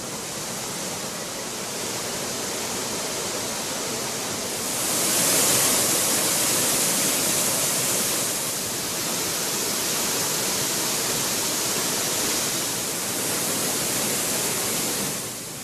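Water pours steadily down the Thirparappu waterfall, reduced in flow, making a continuous broadband rushing roar that swells slightly midway and stays even throughout, with no voices.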